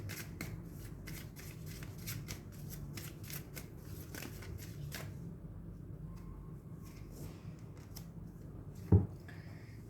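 Tarot cards riffled and shuffled close up in a quiet room, a series of crisp flicks and snaps in quick bursts, then quieter handling, ending with a single sharp tap as a card is drawn.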